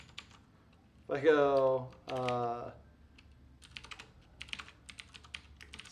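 Keys clatter on a computer keyboard in quick, light bursts after a short spoken phrase, the typing closer and crisper toward the end.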